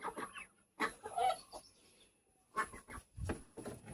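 A hen clucks in short, soft bursts at a moderate distance, with the calls spaced irregularly across a quiet outdoor background.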